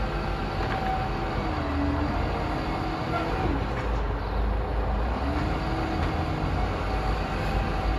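A garbage truck's mechanical arm lifts a red wheelie bin on a residential street: a steady engine rumble with a rising and falling hydraulic whine, heard from a short distance.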